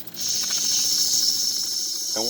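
A rare Jenson model 45 toy steam engine with a copper boiler sounds its whistle, a steady breathy hiss lasting about two seconds before cutting off, close and fairly loud with little tone.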